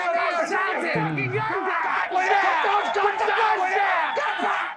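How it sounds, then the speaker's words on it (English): A movie crowd roars, cheers and chants in a dense, loud wall of many overlapping voices, with shouts rising above the steady din. "Even the public is cheering."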